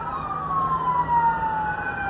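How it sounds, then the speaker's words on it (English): A distant emergency siren wails and falls in pitch over low highway traffic rumble near the Hollywood Hills, faint and far away with no voices. "you can hear rather, emergency vehicles going down the highway there"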